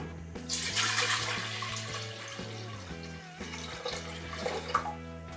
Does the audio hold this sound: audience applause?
no